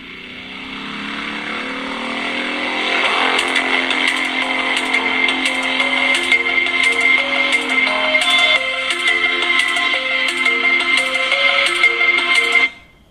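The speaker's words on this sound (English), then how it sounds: "I'm opening the YouTube and playing music" Music plays through an Android phone's speaker from YouTube: a steady, fairly loud song with a repeating melody and percussive ticks that runs throughout and then cuts off abruptly at the end.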